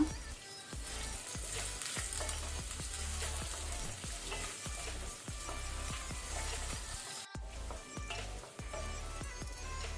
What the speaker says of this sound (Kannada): ಅದರ ಜೊತೆನೆ ಕರಿ ಲೀವ್ಸ್ ಒಗ್ಗರಣೆ ಸೊಪ್ಪು ಸಹ ಹಾಕೊಳ್ಳುವ.